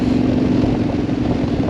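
A Yamaha Tenere 700 Rally motorcycle rumbles steadily while riding with a smooth gear change, a continuous mid-pitched engine drone with wind noise and no talking.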